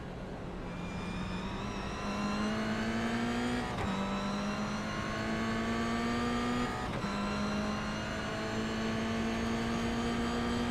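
Race car engines drone in a sim racing game at Knockhill, a loud, sustained rising engine note that drops at two gear changes and climbs again, with no talk.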